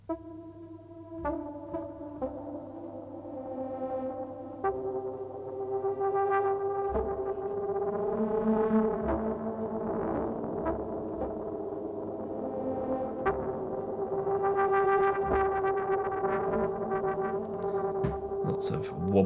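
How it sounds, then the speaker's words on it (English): A Zebra software synth patch with wobbly distortion and delays, resembling a synthy prepared piano, plays sustained tonal notes with plucked attacks that thicken into a dense, steady wash, moderately loud and without talk. "Lots of wobbly distortion and delays. It's a bit like a sort of synthy prepared piano patch."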